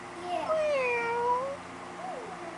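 A voice imitates a cat's meow, a drawn-out sliding cry followed by a shorter second one, close and fairly loud.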